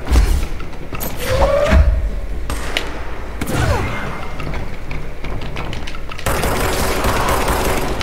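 Shotgun blasts from the video game Control ring out in a busy firefight, several loud booming shots with thuds and impacts spread across the clip, with a brief moment of the player's voice under the gunfire.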